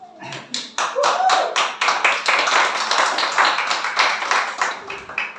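Audience applause for a speaker being introduced at a faith and testimony gathering: a burst of many hands clapping that starts with a few scattered claps and builds into sustained, fairly loud, dense applause.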